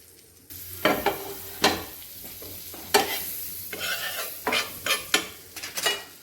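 Butter sizzling in a hot nonstick pan while pav is toasted, with a steady frying hiss broken by several sharp scraping and clinking spatula strokes, close and clear with no talking.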